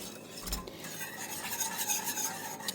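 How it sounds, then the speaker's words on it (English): Whisk beating chocolate sauce in a bowl, a quiet, rapid, continuous scraping and stirring rasp with small clinks, close up and without talking. "I apologize that my camera is shaking as I'm whisking"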